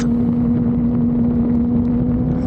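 Yamaha YZF R6 second-generation sport bike engine heard while riding in traffic: a loud, steady, even drone with a strong constant tone, running at moderate revs, continuous throughout with wind noise and no talking.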